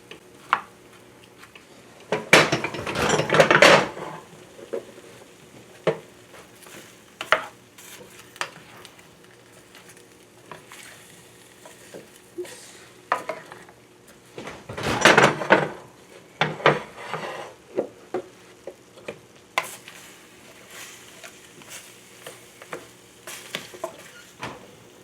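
Roasting vegetables in an oven pan get stirred with a utensil, producing scraping, clinking and soft sizzling in two main bursts amid quieter kitchen clatter.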